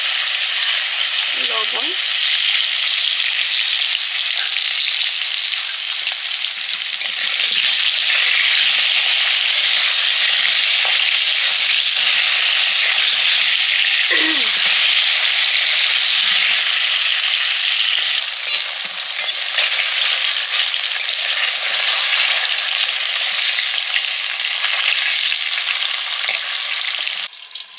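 Taro pieces fry in hot oil in a pan with a dense, continuous loud sizzle and occasional stirring scrapes, while a voice briefly speaks underneath.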